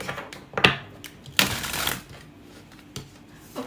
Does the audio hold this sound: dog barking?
no